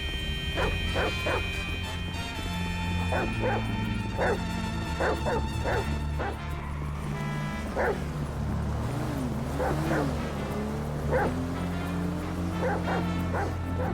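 A dog barks and yips repeatedly in Grand Theft Auto V, sharp rapid barks in quick clusters, then whimpering whines over a steady music and ambient backdrop.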